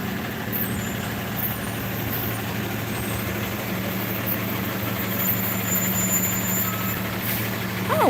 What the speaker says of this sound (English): A yard waste truck would be a different color truck.